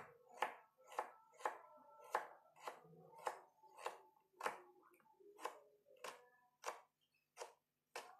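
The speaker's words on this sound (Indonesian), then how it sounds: "ini mengiris daun bawang pre namanya" Knife slicing leek on a cutting board in a home kitchen, about a dozen crisp, evenly spaced chops in a steady rhythm, close and clear with no talk.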